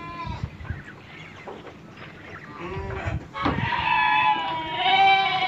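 Goats on a farm that eats fermented banana-stem feed bleat in wavering, nasal calls, sparse at first and then louder and more overlapping toward the end, fairly close amid light background noise.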